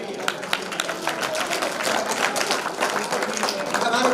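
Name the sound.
applause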